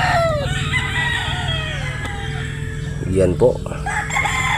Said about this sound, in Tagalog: Ito din isang pure Boston Roundhead po yan.